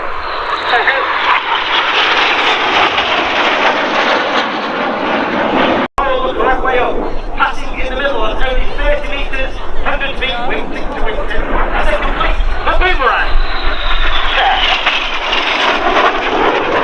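Red Arrows jets at an airshow roar past in a sustained, loud broadband rush that swells and fades, with an announcer talking and a crowd murmuring underneath.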